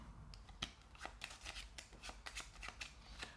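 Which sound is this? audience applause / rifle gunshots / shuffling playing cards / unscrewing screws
shuffling playing cards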